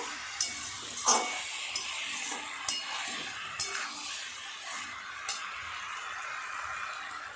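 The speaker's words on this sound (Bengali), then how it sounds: "তো আরেকটু নাড়াচাড়া করে নিয়ে জল দিয়ে চাপা দিয়ে দেবো।" A spoon stirring a thick dish of vegetables and a rohu fish head in a pan, a steady close sizzle under light periodic scrapes and taps against the pan, with no talking.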